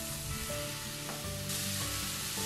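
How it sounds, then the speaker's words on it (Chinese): Mushroom slices stir-fry in a hot pan with garlic for a homemade pan mee sauce, giving a steady close sizzle with brief scraping stirs and no talk. "接着放入冬菇片，把冬菇片炒香。"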